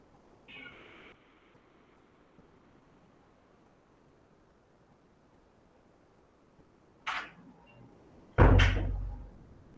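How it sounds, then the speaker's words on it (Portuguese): A cat meows briefly outside a bedroom door, then after a long quiet stretch the door is opened with a sharp knock and a louder, heavier bang nearby. "agora tem outro gato chorando para entrar dentro do quarto"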